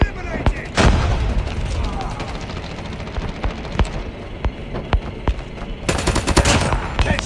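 Gunfire in the mobile shooter Call of Duty Mobile, rapid automatic bursts with sharp single cracks and a heavy burst near the end over constant battle noise, with game voice callouts mixed in.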